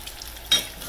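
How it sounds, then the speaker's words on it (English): Apple fritters sizzling in hot oil, a steady crackling hiss with a brief louder burst of spattering partway through, with no voices. "Now I'm going to flip these and let them continue to cook on that other side"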